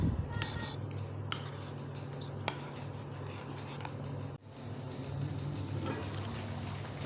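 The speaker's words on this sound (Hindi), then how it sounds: "ये तमाम मसाले हमने आधा किलो दही में अच्छी तरह मिक्स कर देने हैं।" A utensil stirs and scrapes through half a kilo of spiced yogurt in a bowl, soft rubbing and occasional sharp clinks against the dish over a steady low background hum, with no talk.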